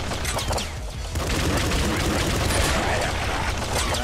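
Dense, continuous gunfire and explosions from the video game Nuclear Throne, a steady loud barrage of rapid shots and booms with no gaps across the whole stretch.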